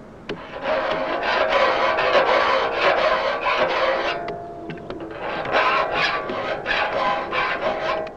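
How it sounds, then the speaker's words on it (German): A broad flat saw file scrapes back and forth across saw teeth during sharpening, a steady run of loud, rasping metal strokes with a short pause partway through. "Zum Anschärfen benutzt man eine breitflächige Sägefeile."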